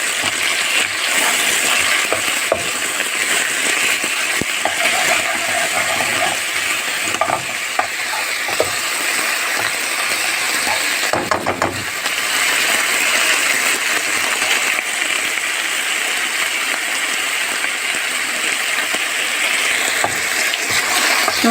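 Garlic and softened peppers fry in a pan while being stirred, a continuous close sizzle broken by scraping and clinking of the utensil against the pan.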